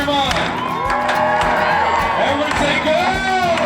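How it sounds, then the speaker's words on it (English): A crowd at an outdoor event near Lake Wallenpaupack in the Pocono Mountains cheers drivers on, with steady loud whoops, shouts and scattered clapping filling the whole stretch, voices layered close and dense. "Everybody. Cheer them on."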